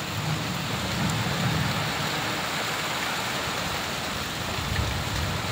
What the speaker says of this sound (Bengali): বৃষ্টি পড়তেছে কিন্তু